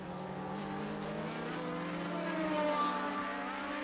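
Racing motorcycle at the USBK Bishopscourt road races, its engine holding a sustained, buzzing high-rev note along the straight, steady and moderately distant with a slight rise in pitch.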